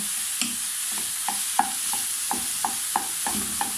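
Seasoned ground meat cooking in a pan, stirred with a spoon: a steady soft sizzle with a rhythmic series of about ten light, close scraping taps, no talking.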